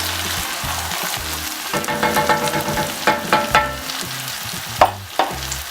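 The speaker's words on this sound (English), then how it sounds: "Just give this a stir." Vegetable sauce with crushed fermented locust beans being stirred in a pot: a steady sizzle runs under repeated scraping strokes of a spoon, in irregular bursts, close and fairly loud, with no voices.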